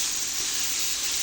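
Slices of chalta, elephant apple, fry in oil in a steady, dense sizzle that holds at an even level for a moment, with no voices over it.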